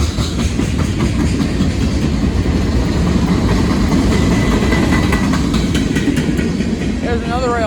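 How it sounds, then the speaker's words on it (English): A Union Pacific mixed freight train rolls past east of Scott City, Missouri, hauling rail boxes, with a loud, continuous rumble and rhythmic clickety-clack of wheels over rail joints, and a brief squeal near the end. "Just pure hauling train."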